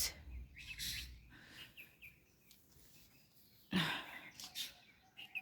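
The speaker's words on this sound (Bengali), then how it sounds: "পাখিরা ডাকতেছে" Birds calling in a chilly village garden among papaya, guava and chilli plants, with scattered faint chirps and tweets against a quiet outdoor background, plus a brief louder rustle partway through.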